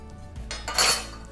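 Knife slicing through a pumpkin and goat cheese tart on a plate, a short crisp scrape and clink of cutlery against the dish, close and quiet with no talk.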